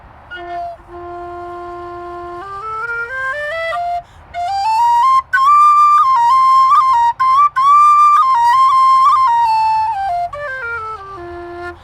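A low F whistle plays a slow, breathy melody, holding long notes and sliding between them, loud and close with a few brief breaks.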